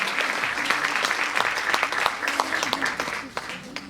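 An audience at a magic show bursts into loud, close applause, dense clapping with scattered cheers and murmurs rising over it.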